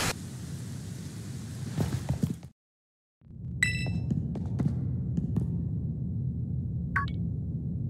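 Steady rain in Pokémon Scarlet patters as a continuous soft wash, broken by a brief silent gap, with occasional metallic clinks and chimes over it.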